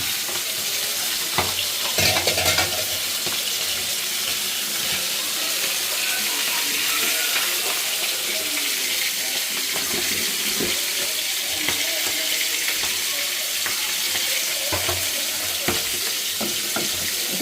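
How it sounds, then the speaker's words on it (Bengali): Hot water poured into a pot of sautéed beef liver with tomato, a dense hissing sizzle with splashy bubbling and occasional clanks, no talk. "তো কষানো শেষ, এখন গরম পানি অ্যাড করে দিলাম।"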